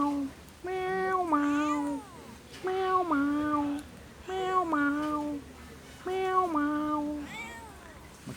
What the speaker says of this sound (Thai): แมวแสนน่ารัก แมวแสนน่ารัก แมวแมวแมวมา